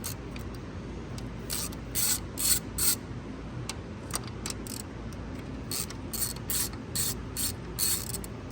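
A ratchet with a 10 mm socket loosens bolts on a 2014 Chevy 1500 5.3L, with a rapid clicking pawl heard in repeated short bursts, close and fairly loud with no talk.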